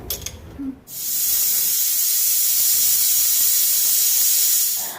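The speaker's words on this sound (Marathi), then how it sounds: "मी कुकरचं झाकण झाकले. 4 शिट्ट्या करून घेऊया." A pressure cooker cooking vegetable kurma with salt, water and dried fenugreek lets out a loud, sharp steam whistle that starts abruptly after a moment of quieter kitchen sound and holds steadily to the end.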